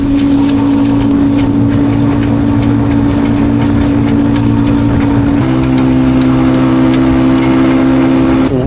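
A Chinese motorcycle engine runs steadily and loudly with a continuous mechanical rattle from an unexpected fault, its pitch shifting slightly partway through as it keeps going.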